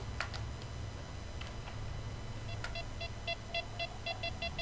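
A game device in the horror adventure Dies Irae gives a repeating series of short electronic beeps in a regular rhythm, faint against a low steady background hum.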